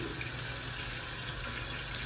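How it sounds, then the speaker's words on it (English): Tap running into a hotel bathroom sink at the Cosmopolitan in Las Vegas, where the drain is slow: a steady, unbroken rush of water, close and even throughout, with no talking. "for the sinks, if you leave the water running, the drain, it goes down very slowly"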